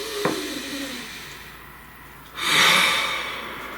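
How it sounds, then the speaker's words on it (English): A single slow, deep breath, first drawn in softly and then released as a long, airy exhale that swells and fades. "Please take a nice deep breath."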